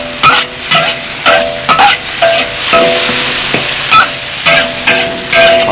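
Chopped chili and ginger slices stir-fried in a wok for a fish-head dish, with a steady sizzle broken by repeated scraping strokes of the spatula at a brisk, uneven rhythm, close and fairly loud, no talking.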